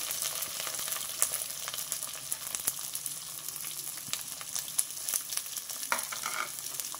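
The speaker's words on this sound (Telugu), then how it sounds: "ఇప్పుడు కట్ చేసి పెట్టుకున్న ఉల్లిపాయ, పచ్చిమిర్చి వేసేస్తున్నా" Chopped onion and green chillies sizzle in hot oil in a pan with cumin and curry leaves, a soft, steady crackling fry with scattered small pops and faint stirring, fairly quiet and without talk.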